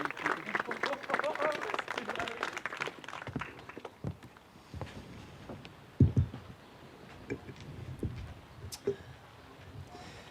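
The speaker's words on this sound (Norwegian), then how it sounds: "gi en stor applaus til Ran Jutul" Clapping from an audience at a 17 May celebration for Ran Jutul, strongest in the first few seconds and then thinning out, with speech and scattered footsteps and knocks following.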